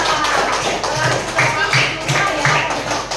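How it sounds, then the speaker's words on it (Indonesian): A group of people, likely a class, clap hands in a rhythmic burst of about five beats, loud and close, with voices mixed in over the clapping. "Tepuk tangan untuk kita semua."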